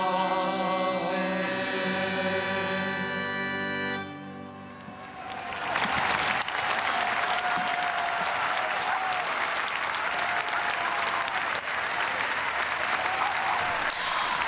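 Thunderous applause and cheering from about 150,000 people filling a square after a papal Urbi et Orbi blessing. It swells after a sustained sung tone fades and stays loud and dense to the end.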